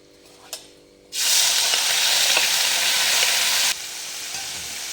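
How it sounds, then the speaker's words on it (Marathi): Rice hitting hot ghee in a pan: a quiet tap and clink, then a sudden loud broad sizzle that holds steady for a few seconds before dropping to a softer hiss. "तांदूळ मी इथं मस्त असा राळ्याचा एक मिनिटभर छान परतून घेतलेला आहे छान असं तुपात भाजल्यावर"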